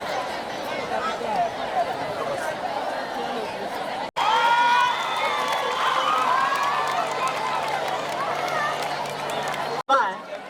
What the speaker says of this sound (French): Nous appelons Tous les applaudissements du public.